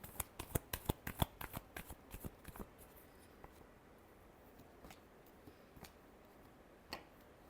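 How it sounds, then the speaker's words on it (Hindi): Tarot cards are shuffled close by in a rapid burst of crisp riffling snaps that thins out into a few scattered card taps and flicks, quiet and unaccompanied by talk. "Last shuffle."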